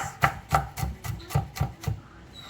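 A knife mincing food into small pieces on a cutting board makes about seven crisp, evenly spaced chops, close and distinct, then a short quiet tail.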